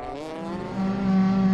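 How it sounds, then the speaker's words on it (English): A race car engine drones and rises in pitch as the car slides sideways into a corner at an ice racing event, a loud steady harmonic tone building toward the end. "Socias overtakes Ruger, who slides side on into the VIP corner."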